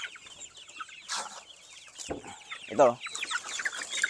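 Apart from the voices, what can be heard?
Rhode Island Red chickens clucking while being fed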